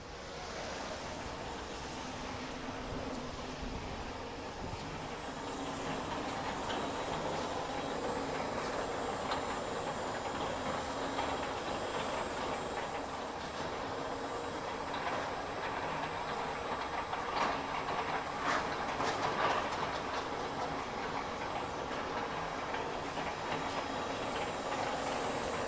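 A sheet metal leveling machine running on a garage door panel production line, giving a steady industrial rumble and hum with faint rhythmic clatter, continuous and moderately loud throughout.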